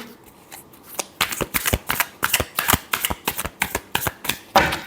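Tarot cards being shuffled by hand during a reading, a close run of crisp riffling bursts in quick succession after a quiet start, with no talking.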